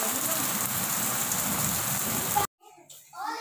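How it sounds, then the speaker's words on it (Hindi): Heavy rain falling in a steady, dense hiss that stays loud and close for about two and a half seconds, then cuts off abruptly as a person starts talking. "बारिश हो रही है बहुत तेज़ों की आज।"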